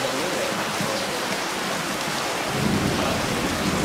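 Steady rain falls with a low rumble of thunder swelling toward the end, a continuous loud wash of noise with no voices.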